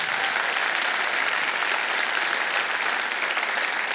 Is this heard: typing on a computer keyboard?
no